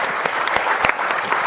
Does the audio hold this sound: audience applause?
yes